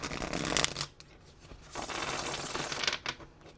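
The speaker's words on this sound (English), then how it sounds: "one more shuffle here." Cards riffle and flutter in quick crisp bursts, a deck being shuffled twice close by with brief pauses between.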